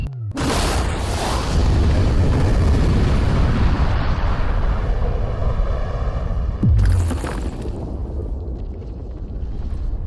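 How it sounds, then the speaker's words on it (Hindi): A huge, real explosion of bombs set around a safe: a massive boom erupts and rumbles loudly for several seconds, then a second heavy blast follows before a long fading roar with wind buffeting the microphone. "लेकिन ये एक असली धमाका है"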